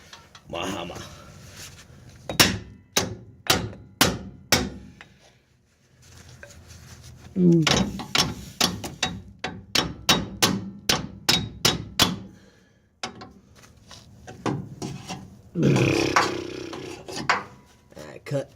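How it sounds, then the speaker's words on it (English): Hammer blows on a truck's leaf spring, struck in quick bursts of sharp metallic hits separated by pauses, loud and close, with scraping and shuffling between the bursts. "Let me get out my hammer."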